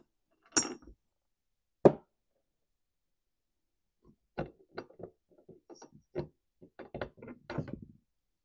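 Hammer taps on a Stihl MS250 chainsaw flywheel nut to loosen it, two sharp knocks followed by a run of lighter, quicker taps and rattles of metal, close and fairly quiet.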